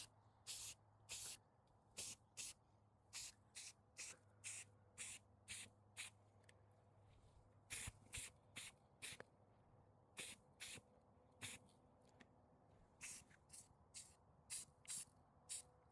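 Short bursts of aerosol spray paint, Rusty Metal primer going onto an SCX24 RC crawler hardbody, hiss repeatedly in quick close-up puffs of about half a second, with brief quiet gaps between them.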